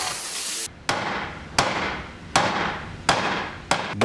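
A heavy hammer strikes solid-wood furniture joints in a woodworking factory, six sharp, loud blows spaced roughly evenly with ringing decay between them and no talk.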